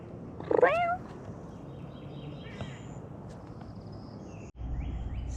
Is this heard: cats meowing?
yes